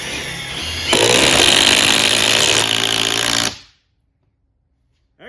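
Metabo HPT cordless drill driving structural screws into wood, a steady loud whirring drone that rises and holds for about three seconds, then stops abruptly into silence.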